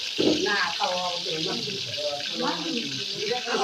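Pieces of roast frying slowly in hot oil in a village kitchen give a steady, close hiss and sizzle throughout, with a voice talking over it.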